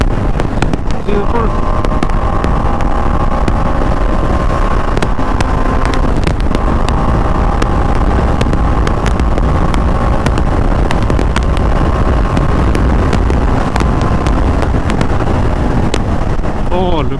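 A TVS Apache 310 RR motorcycle ridden hard in track mode, with a loud constant engine roar and heavy wind buffeting throughout and revs rising and falling.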